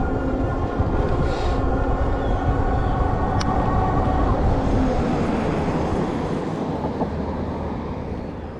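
A HAOQI Squirrel e-bike is ridden uphill while pedaling, giving a steady close rumble of motion and wind with a faint whining hum that fades slightly toward the end, with no talking.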